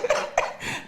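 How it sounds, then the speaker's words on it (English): A lingering cough from someone recovering from COVID, with a few short, raspy bursts in quick succession, close and fairly quiet. "I still have that COVID cough."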